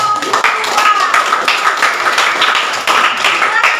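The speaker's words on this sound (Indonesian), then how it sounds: "Mari kita tepuk tangan untuk kelompok 2" Students in a classroom clap for a presenting group, a lively, close burst of hands mixed with voices talking over it.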